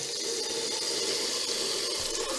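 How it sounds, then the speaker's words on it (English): Water runs steadily from a tap into a sink for brush washing, a constant even hiss with no breaks. "Get some nice water going,"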